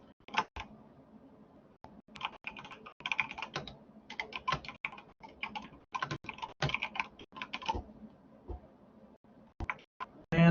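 Someone types on a computer keyboard while working in AutoCAD 2020, making quick, irregular bursts of close, crisp keystrokes broken by short pauses, with no talking.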